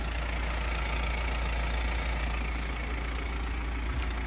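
A car engine idling quietly during a used-car inspection, a steady low hum with no revving, constant and close, with no voices.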